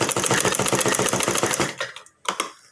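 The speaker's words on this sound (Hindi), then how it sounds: "फिर इसके ऊपर एक सिलाई मार दो।" Sewing machine stitching fabric for a blouse, a rapid, even mechanical chatter running loud and close for about two seconds, then stopping with a couple of brief clicks.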